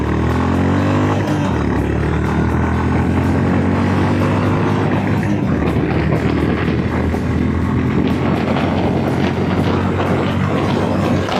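A loud Honda H'ness CB350 350cc motorcycle engine revs hard and accelerates continuously from a launch, its pitch climbing through the gears with strong wind rush, no talking.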